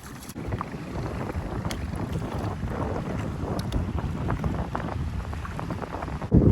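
Strong wind buffets the microphone steadily throughout, a loud continuous rumble mixed with the wash of water around a moving kayak at sea off Koh Lipe, Thailand.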